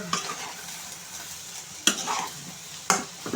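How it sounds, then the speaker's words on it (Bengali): Ridge gourd being stirred with spices in a frying pan, a steady close sizzle with scraping strokes and two sharper spoon knocks against the pan. "ধুন্দুলগুলো ভালোভাবে মিশিয়ে মশলাটা"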